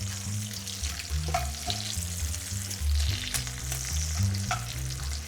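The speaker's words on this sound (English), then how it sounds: "Let's cook some bacon." Bacon fries in a pan as its fat renders, giving a steady crackling sizzle with occasional stirring and scraping sounds, fairly close and with no voices.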